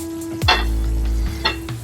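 Egg masal vadai curry in a pan, a bubbling, sizzling simmer heard up close, with a couple of sharp clinks and stirring sounds over the continuous boil.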